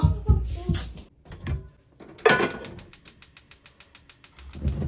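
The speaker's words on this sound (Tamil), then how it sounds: "அடுப்பை ஆன் பண்ணிட்டேன் காய்ஸ்." A gas stove igniter clicks in a quick, even series of sharp ticks as the burner is switched on; a person talks and there are kitchen noises before the clicking starts.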